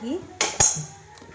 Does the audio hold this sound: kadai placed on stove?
yes